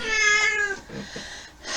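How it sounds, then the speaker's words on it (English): A cat meows loudly and drawn-out for about a second, close by, followed by quieter rustling and a shorter second call at the end. "My cat has decided to walk in."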